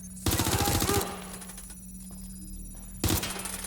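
Burst of rapid gunfire in the video game Watch Dogs: Legion, a loud automatic volley lasting under a second, then a lull with a steady hum before another shot lands near the end.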